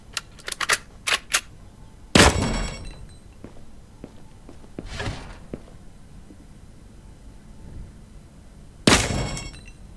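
Gunshots ring out at a shooting range in Gunsmith Simulator: a quick run of small clicks, then three sharp, separated loud shots with short decaying tails over quiet background.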